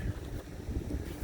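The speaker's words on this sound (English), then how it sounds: "the wind has come up now and it's really cold" Cold wind blows across an outdoor RV parking site where a concrete slab is being poured, as a brief, steady gusty rumble with microphone buffeting and no talking.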